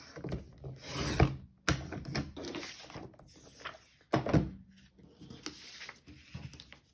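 Paper is cut into a 2.5 inch strip with a scrapbooking trimmer tool. Several short scraping, rasping strokes come with small clicks and pauses between them, close and fairly quiet, with no talk.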